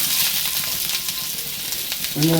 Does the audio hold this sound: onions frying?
yes